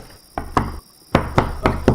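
Heavy banging on a slammed wooden door in an audio drama, a shoulder driven into it in several hard, close thuds: two blows, a pause, then a quicker run of four knocks.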